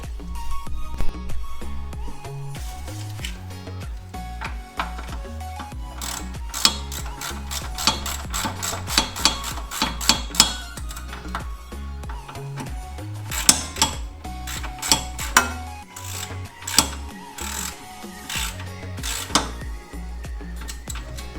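Sway bar end-link bolts being tightened with a ratcheting socket wrench on a Honda, long runs of rapid close clicking in bursts with short pauses, continuing for about twenty seconds.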